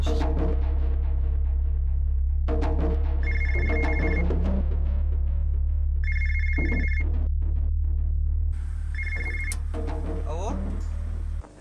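A telephone rings in repeated electronic trills with short gaps between them, heard over a loud steady low hum while someone talks throughout.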